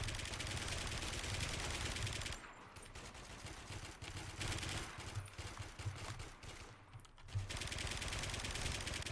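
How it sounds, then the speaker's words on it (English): Rapid bursts of automatic gunfire from the first-person shooter WARMODE crackle through a noisy game mix, with dense firing at the start and near the end and a thinner, choppier stretch in between. "Gotta love these crisp bullet sounds here."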